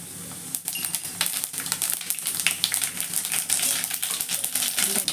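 Mustard and cumin seeds crackle and splutter in hot oil for a kulambu, a dense run of sharp pops close by, bursting irregularly and almost continuously, with no talking.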